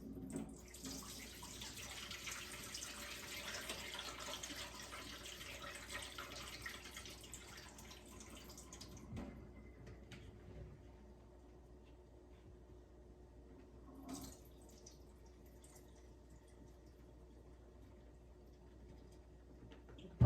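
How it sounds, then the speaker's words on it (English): Water pours off soaking potatoes from a bowl in a home kitchen, a loud, steady rushing stream for about nine seconds that then drops to a faint trickle, with a brief splash near the end. "I'm going to pour the water off of the potatoes."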